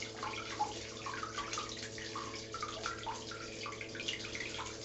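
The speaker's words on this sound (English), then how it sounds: "I put the brush facing, the bristles facing upwards, so the water's running down through the bristles." Tap water streams down through the upturned bristles of a traditional wet-shaving brush, a steady soft splashing and trickling that runs the whole time with no talk over it.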